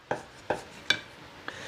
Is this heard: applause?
no